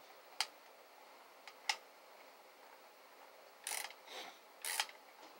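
A 1964 Westclox wind-up alarm clock is wound by hand, producing a few sharp isolated clicks followed by bursts of ratcheting winding, close and quiet with no talk.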